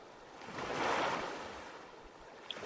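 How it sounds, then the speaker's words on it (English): Ocean waves in the survival game Stranded Deep, a soft wash of surf rising to a gentle crest and easing back, faint and continuous with no voices. "I'm pretty sure this is an ocean, not a lake."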